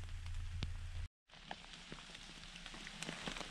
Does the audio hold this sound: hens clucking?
no